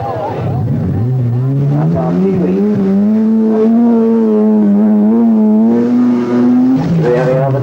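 Andy Dawson's Datsun Silvia rally car on the 1982 RAC Rally, its engine loud and close throughout, rising and revving with shifting pitch, under a commentator's voice.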